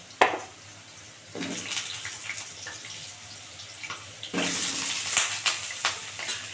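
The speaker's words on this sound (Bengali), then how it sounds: "আলুগুলো না গ্যাস কমিয়ে কমিয়ে ভাজবে তাহলে খুব ভালো ভাজা হবে" Sliced potatoes fry in oil in a pan over a lowered gas flame, giving a soft, steady crackling hiss that swells louder in a few bursts.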